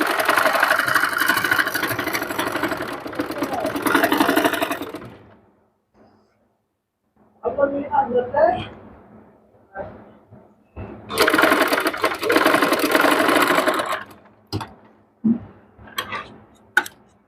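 A sewing machine stitches a puff sleeve in loud bursts: a long run of several seconds, a pause with small handling sounds, then another long run and a few short stitching spurts.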